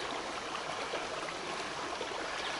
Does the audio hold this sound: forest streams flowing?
yes